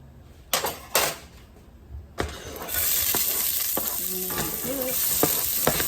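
Hot oil in a frying pan crackles and sizzles in a steady broadband hiss that swells and holds, preceded by a few clattering knocks of pan and utensil.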